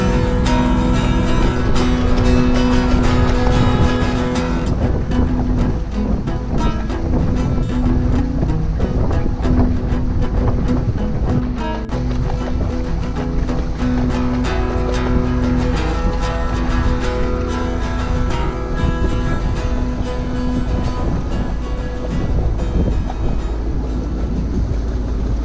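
Steady wind and water wash around a calm sailboat anchorage off the Alaska Peninsula, a constant broadband rush with low wind buffeting on the microphone throughout, no voices.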